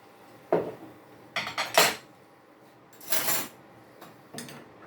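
A spoon stirs and clinks against a glass while an Aperol Spritz cocktail is mixed, giving several short, bright, close knocks spaced irregularly over a few seconds, with quiet pauses between them.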